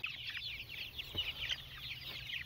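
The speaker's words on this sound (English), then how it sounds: "There's a wide variety of chickens out here." Several chickens, Rhode Island Reds among them, cluck and chatter steadily on a farm, a busy overlapping flock sound at moderate distance with no talking.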